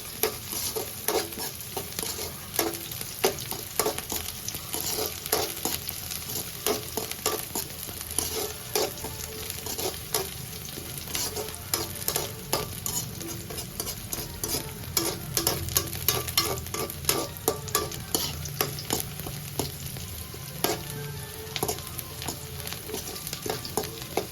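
Onions sautéing in a pan for Tamil dry fish curry (karuvadu kulambu), a steady close sizzle with frequent scraping stirs and clinks of a spatula throughout, no voices.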